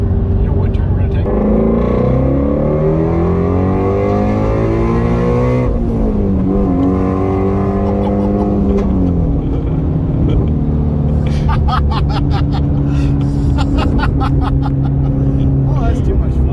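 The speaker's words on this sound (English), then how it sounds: "it's stock tune, more or less the stock exhaust, and it still pops and bangs" Stock-tune Ford Mustang GT350 with a near-stock exhaust, revving and accelerating hard from inside the car, the engine note rising and falling through gears with crackling pops, while voices talk over it.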